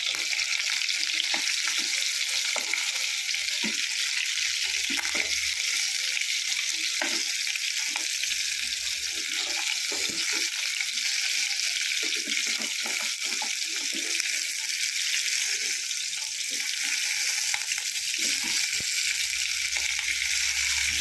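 Quail pieces frying in a pan of oil for a village-style Kerala kaada fry, a steady, close hiss and sizzle with small scraping touches as the pieces are turned, continuous with no talking.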